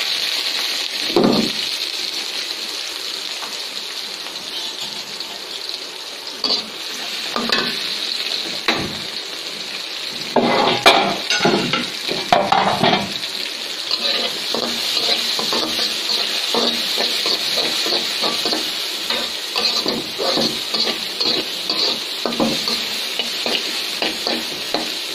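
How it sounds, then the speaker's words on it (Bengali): Whole red chilies fry in a little oil with a steady, bright sizzle. Irregular stirring and scraping in the pan pick up in the middle and continue, close and fairly loud. "আমি এখানে তেল দিয়ে দিচ্ছি, বেশি দিব না, এই পর্যন্তই। আমি লাল লঙ্কা দিব এখানে, লাল মরিচ, লাল চিলি।"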